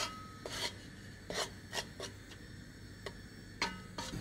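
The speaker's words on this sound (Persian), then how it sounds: "من بالا سر آرده وایساده ام، مرتب مواظبم، زیر رو میکنم که یه وقت مثلا زیرش نسوزه" Flour is stirred while toasting in a pan for kachi, giving quiet, scraping rubs at an uneven pace, with several separate strokes against a soft background hum.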